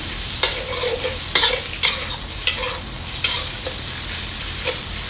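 Stir-frying chili with beans in a pan: a steady sizzle with repeated sharp scraping strokes of a utensil at an uneven rhythm, close and fairly loud, no voices.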